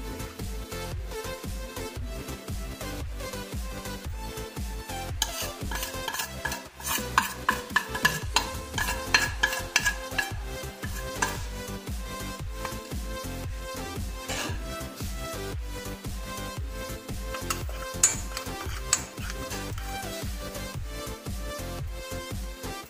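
Spices being stirred into a cornflour masala in a bowl, a fast continuous rhythmic scraping and clacking that runs nonstop at close range with a faint sizzle underneath.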